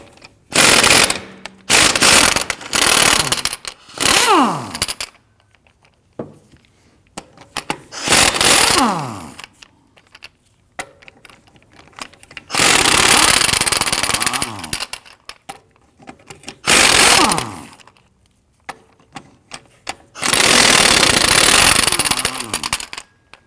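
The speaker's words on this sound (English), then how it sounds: "Using a 19mm socket, we're going to loosen and remove the lug nuts." A power tool with a 19mm socket loosens rear wheel lug nuts on a 2013–2019 Ford Interceptor Utility, sounding as loud, harsh rattling bursts of a few seconds each, separated by quiet pauses.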